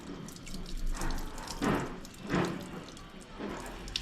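Water rinses through the pipe of a household gas regulator under repair, a close rushing and splashing flow that swells in several waves, with no talk.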